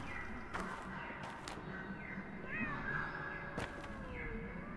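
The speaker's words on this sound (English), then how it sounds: "I hear a cat, don't I?" A cat in the video game Pathologic 2 gives a few faint, drawn-out meows over quiet background ambience, with a couple of sharp clicks scattered around them.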